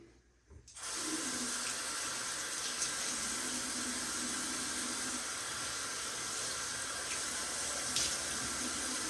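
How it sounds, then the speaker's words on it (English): Tap running steadily into a bathroom sink as it fills, a continuous close hiss and splash starting after a brief click at the outset, with no talk. "I'm going to wash the face real quick, fill the sink, and then we'll get lathering."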